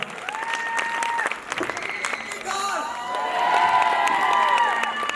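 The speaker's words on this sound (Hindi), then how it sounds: "जोरदार तालियां सुभाष किंगडम अंकल जी के लिए, जबरदस्त तालियां" Crowd applause with cheering and whoops at an anniversary seminar in Karnal, Haryana, building louder toward the end, with voices and tonal sounds mixed in over the clapping.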